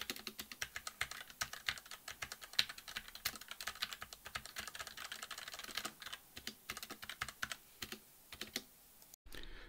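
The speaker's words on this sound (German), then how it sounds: "XiaoKoa Schwanenhals Tischmikrofon klappern mechanische Tastatur." A mechanical keyboard is typed on rapidly, recorded through a XiaoKoa gooseneck desk microphone, producing dense clattering keystrokes in an uneven steady stream, close and clear, with a brief pause near the end and no talk.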